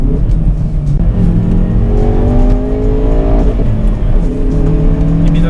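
Hyundai i30N in N mode revving close to 7000 rpm with some wheelspin, a loud, close engine note climbing through gears with a faint tire squeal running under it.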